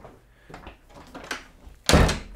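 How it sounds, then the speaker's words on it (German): A door being shut indoors, with soft shuffling followed by one loud thud near the end. Nobody talks. "ich mache gerade die Tür zu."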